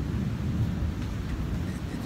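Heavy rain pouring outside a house during a storm, a steady dense broadband rush with a low rumbling undertone, continuous and fairly loud with no talk.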